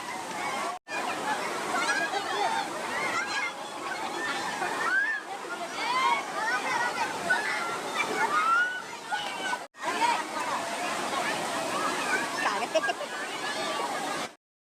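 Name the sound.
Kempty Falls waterfall water, Mussoorie, Uttarakhand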